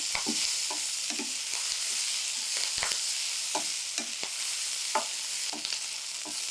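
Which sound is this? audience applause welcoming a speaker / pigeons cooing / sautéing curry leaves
sautéing curry leaves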